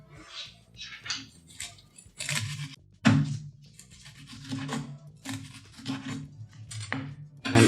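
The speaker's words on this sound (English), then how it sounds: "So what we will do is thinly slice the onion." A knife thinly slicing an onion on a cutting board for an arugula and prosciutto pizza, making a series of crisp, irregular cuts and clicks, close and moderately quiet.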